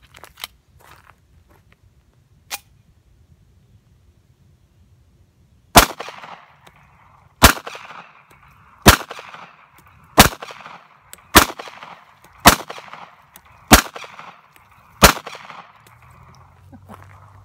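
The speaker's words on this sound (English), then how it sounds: "We'll go ahead and shoot at the pumpkins with this one." Eight sharp, loud .45 ACP shots from a 1911 pistol fired at pumpkins outdoors, spaced about a second apart, each followed by a brief ringing echo, after two fainter early pops.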